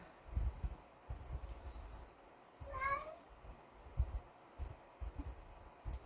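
A pet cat lets out a single short meow near the middle, close and fairly clear, against soft low thumps and handling noise in a quiet room.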